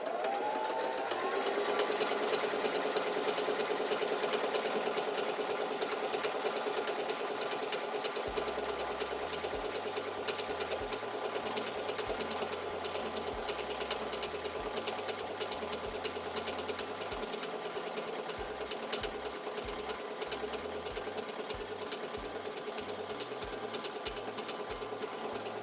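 A Singer Simple 3337 sewing machine stitches fabric with a continuous, close mechanical whir and a rapid needle rattle. After a rising motor tone at the start, a faint rhythmic low thumping runs underneath.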